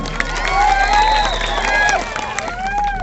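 Crowd noise at a stage show for Golu: a lively audience with mixed cheering and shouting, some clapping mixed in, and voices above the babble.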